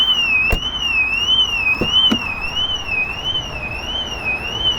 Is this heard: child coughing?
no